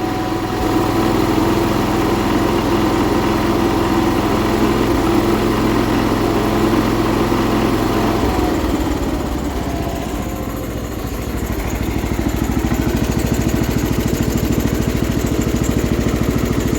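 John Deere 210 lawn tractor engine running at a steady idle close by, slightly uneven with a faint miss, the tone dipping briefly midway before settling again.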